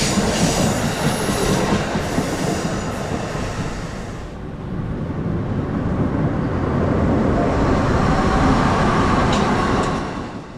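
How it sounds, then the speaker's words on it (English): An eastbound Amtrak Regional train headed by two ACS-64 electric locomotives passes at night, a loud, close roar of wheels and rails that dips briefly and swells again before fading at the end. "starting off with Amtrak Regional Train 178 with double-headed ACS 64s eastbound"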